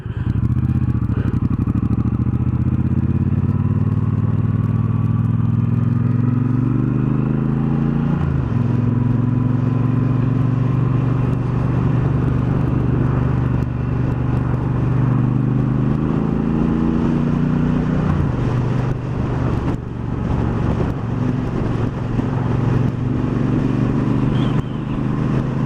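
A 2018 Triumph Bonneville Bobber motorcycle rumbles along on the road, its engine droning steadily with pitch rising and falling through gear changes and acceleration, mixed with wind rush and a constant close exhaust note.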